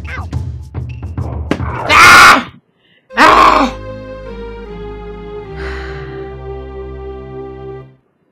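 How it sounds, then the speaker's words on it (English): Heavy, groaning breaths from the lion character in The Lion King video game, two strong bursts over sustained electronic game tones that hum on steadily afterward. "when he's breathing heavy"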